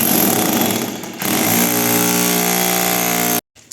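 An electric hammer drill roars and hammers steadily, breaking slate in a basement, briefly dipping before revving to a sustained whine, then cutting off abruptly near the end.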